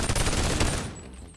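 Dual guns firing in a VR military academy video game, a short, loud burst of rapid automatic shots that tails off within about a second.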